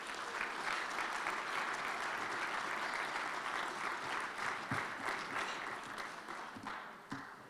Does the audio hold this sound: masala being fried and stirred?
no